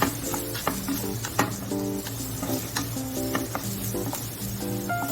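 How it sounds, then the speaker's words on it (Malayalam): Onions sautéing with green chillies and curry leaves for a mushroom masala, with a steady close sizzle in the pan and repeated scraping and stirring strokes of a utensil against the metal. "പച്ചമുളക്, കറിവേപ്പില എന്നിവ ചേർത്ത് വഴറ്റി കൊടുക്കാം."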